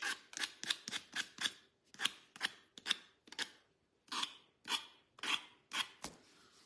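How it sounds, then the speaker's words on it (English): Scissors snip repeatedly in quick, crisp cuts, a dozen or so sharp blade strokes in an uneven rhythm, close and fairly quiet with short pauses. "But I am going to use my scissors."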